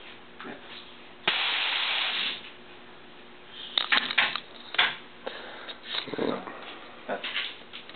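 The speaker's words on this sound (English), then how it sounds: "I'll purge it so that you can see how much pressure comes out of here" A sudden loud hiss of pressurized nitrous oxide blasts out for about a second during a system purge, followed by quieter clunks and shuffling handling sounds.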